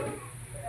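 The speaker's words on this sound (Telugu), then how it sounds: "ఇది బాగా మసిలిన తర్వాత ఉల్లిపాయలు కూడా వేసుకోవాలండి" Sliced onions frying in hot oil, a dense close-up sizzle and crackle that runs steadily without pause and with no voices over it.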